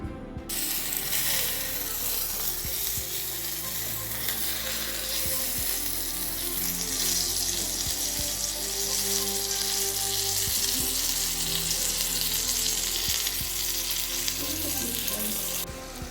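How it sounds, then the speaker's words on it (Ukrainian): Steady, dense sizzling and crackling of chebureki pastries frying in hot oil in a pan, loud and close, continuing without pause, with faint occasional clicks. "Смажаться наші чебуречки."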